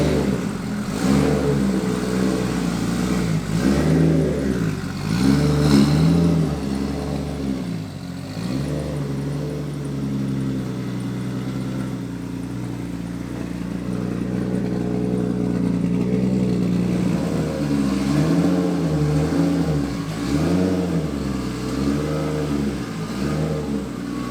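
A 580HP LS3-powered car with flex fuel and a Haltech tune revs in loud, rising and falling surges, the deep engine note swelling and dipping repeatedly, close up, with no talking.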